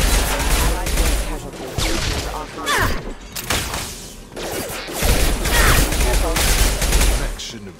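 Sustained gunfire in a Mass Effect 2 firefight, loud and dense bursts with crashes and booms, dropping briefly around the third and fifth seconds before resuming, with voices shouting underneath.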